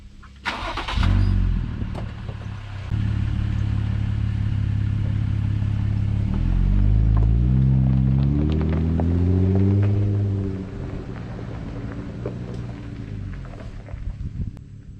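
An off-road Jeep on a wilderness trail starts with a loud bang, then its engine revs and rumbles steadily as it pulls away, fading somewhat near the end, with clatter from the trail.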